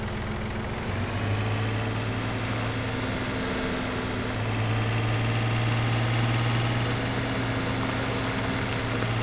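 Farming Simulator 17 tractor engine idling steadily at a low, even drone, close and continuous throughout, with a slight pitch shift partway.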